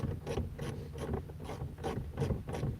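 A manual ratchet being cranked while installing a car stereo, a series of rhythmic clicking bursts repeating roughly every third of a second, close and clear with no talking.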